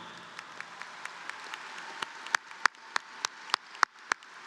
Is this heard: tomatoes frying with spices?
no